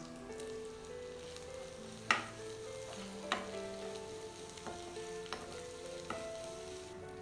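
Ginger sautéing with salt in a pan, a soft constant sizzle broken by several sharp clacks and scrapes of stirring.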